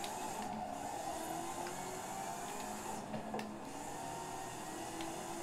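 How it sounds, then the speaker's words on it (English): A steady engine drone of a supercharged Corvette in a video game, with a thin high supercharger whine running continuously, fairly quiet, with faint clicks scattered through it. "I know y'all hear that whine. That supercharger whine."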